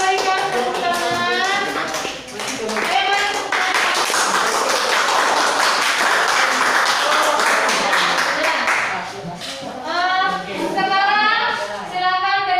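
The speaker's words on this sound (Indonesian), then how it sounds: "Ya, kita berikan tepuk tangan." Classroom students clap after a group presentation, a few seconds of loose clapping in the middle, with children's and adult voices talking over it before and after.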